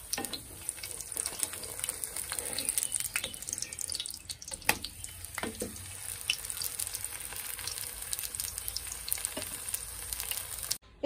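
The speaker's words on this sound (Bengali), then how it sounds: "তেল গরম হয়ে গেছে, এখন দিয়ে দেব আমি রুটিটা" Sugared roti frying in hot oil in a home kitchen, a steady crackling sizzle with scattered sharper pops and spits running throughout, close and fairly quiet, no voices.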